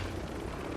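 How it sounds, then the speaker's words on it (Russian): A helicopter in Call of Duty: Warzone, its steady rotor thrum and engine noise continuous and fairly loud for under a second, with no talking. "А это же вертолет."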